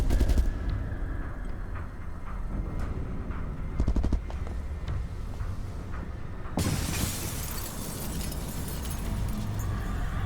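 Gunfire in the video game Resident Evil Revelations 2, a steady stream of shots and impacts with a few louder bursts, then a sudden harsh crash-like wash of noise partway through that continues to the end.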